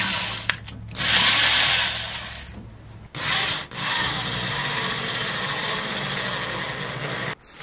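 A power drill drives screws during a DIY bamboo kitchen cabinet build, giving a loud, steady grinding whir that runs for long stretches with brief pauses, with no talking.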